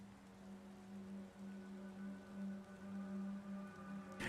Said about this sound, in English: it's kind of hard to see with it raining and stuff outside